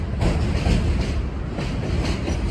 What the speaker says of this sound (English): Even how the trains sound.